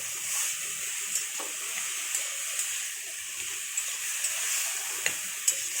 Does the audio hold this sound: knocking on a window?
no